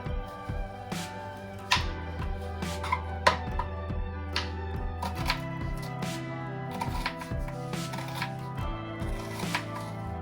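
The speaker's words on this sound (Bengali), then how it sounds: "এবার আমি একটা মিডিয়াম সাইজের পেঁয়াজকে স্লাইস করে কেটে নিচ্ছি" A knife slices a medium-sized onion on a board, making a run of quick, crisp cutting taps at uneven intervals over soft background music.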